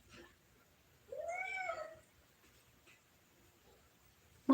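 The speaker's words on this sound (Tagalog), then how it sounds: "Pasensya na, may pusa ako. Nakikinig sa akin." A domestic cat gives a single clear meow, close and fairly loud, in an otherwise quiet room, followed by a brief faint noise at the end.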